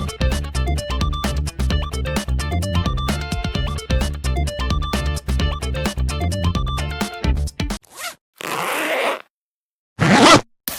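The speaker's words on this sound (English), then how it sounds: "All of these are zipper opening sound." A clothing zipper pulled open in loud, rapid, ratcheting bursts, several long runs of close clicking followed by shorter rasping pulls, with no talking.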